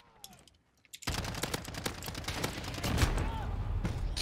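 Dense automatic gunfire starts abruptly after a short quiet moment in a Modern Warfare match, with many fast, sharp shots layered together from nearby, one especially heavy blast partway through.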